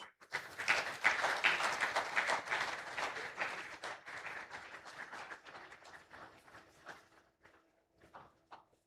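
Audience applause at an award ceremony for a naval medal presentation, a broad wash of many hands clapping that starts loud and steadily thins out toward a sparse, fading end.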